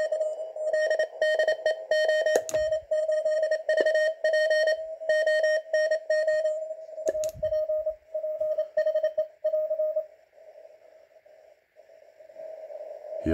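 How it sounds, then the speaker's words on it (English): A steady Morse code CW tone on a uSDX amateur radio transceiver, keyed on and off in rapid dots and dashes, moderately loud, with static bursts, then a quieter off-filter station tone continuing over soft hiss. "here we have a CW signal"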